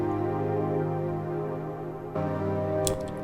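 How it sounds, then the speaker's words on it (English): A synth sound from an FL Studio beat drones steadily with rich layered tones, shifting to a new chord partway through, followed by a brief bright accent near the end, heard alone. "And another synth which sounds like this"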